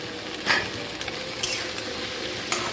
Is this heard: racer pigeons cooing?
no